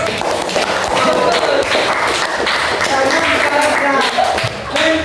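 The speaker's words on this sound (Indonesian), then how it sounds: "Tepuk tangan." A group claps hands steadily during a lesson about mobile phones, the dense clatter holding at an even level for several seconds with voices mixed in.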